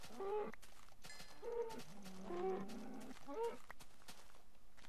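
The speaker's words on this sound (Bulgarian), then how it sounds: "О, доста крави наистина." Cattle in the Minecraft video game, a few short low moos spread through the stretch, faint and close, with soft footstep-like clicks and other game noises around them.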